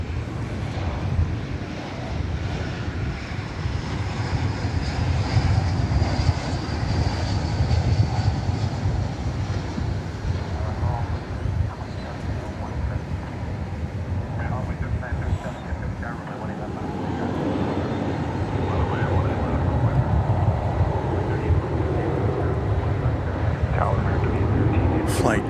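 A jet airliner arriving from Seattle at Dallas Fort Worth airport, a loud sustained engine roar that builds and holds across the whole stretch, with someone talking over it.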